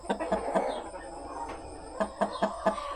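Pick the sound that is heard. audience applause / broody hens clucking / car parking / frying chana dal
broody hens clucking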